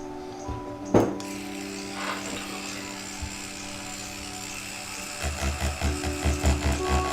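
A tattoo machine runs on paper with a steady mechanical hum and buzz. A sharp click sounds near the start. Toward the end the buzzing pulses in a quick, regular rhythm, close up and with no voices.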